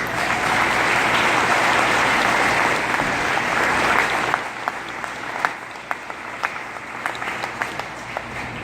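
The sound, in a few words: audience applause for families, friends and shipmates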